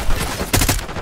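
Gunshots in the Black Ops 6 campaign, a video game: a couple of close, loud cracks in quick succession with a dense, noisy burst of firing.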